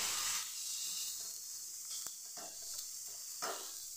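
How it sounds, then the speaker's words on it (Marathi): Chopped mature bean pods, their seeds removed, roast on a hot griddle with a soft continuous sizzle and hiss, broken by a few brief scraping stirs; quiet and close, with no talking. "अशा प्रकारे मी भाजून घेते शेंगा"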